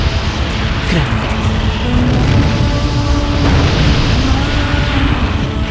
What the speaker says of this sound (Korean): 베수비오 산이 폭발했다